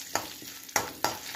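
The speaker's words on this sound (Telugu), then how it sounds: "ఇప్పుడు అదే మూకుల్లో కొంచెం నూనె వేసి మినపప్పు, ఎండుమిరపకాయలు, కొంచెం మెంతులు, ఇంగువ ఇది పోపు వేయాలి." Urad dal, dry red chillies, fenugreek seeds and asafoetida fry in oil in a pan for a tempering, with a soft sizzle under three sharp scraping stir strokes.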